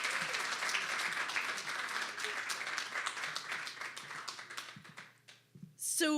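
A live audience at a talk event gives a round of applause, dense clapping that thins out into scattered claps before a voice comes in at the end.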